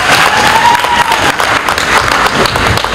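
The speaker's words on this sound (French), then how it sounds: "Applaudissements." Dense, loud applause from a crowd at a political rally presenting a citizens' opposition movement, steady clapping filling the whole moment with a faint tonal whistle early on.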